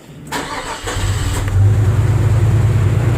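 A Nissan Xterra with a 3.3 engine, just fixed for a bad injector, cranks briefly and then catches, settling into a steady, smooth idle close by.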